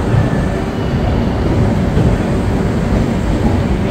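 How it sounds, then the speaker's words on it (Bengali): A passenger train pulling out of platform 1 at Kishanganj station, heard as a steady, loud, continuous rumble of rolling wagons with broadband rail noise and no voices. "আমাদের ট্রেন কিষানগঞ্জ থেকে ছাড়লো"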